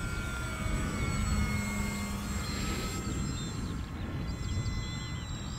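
A Durafly Gloster Gladiator RC model biplane flies at full throttle, giving a steady, fairly distant engine drone with a slight rise and fall as it passes, heard alone with no talk.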